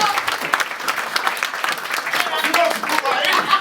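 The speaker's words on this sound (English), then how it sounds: "I think it deserves a round of applause." Wedding guests applaud during a reception speech, a dense, steady patter of many hands clapping at close range, with some voices mixed in beneath the claps.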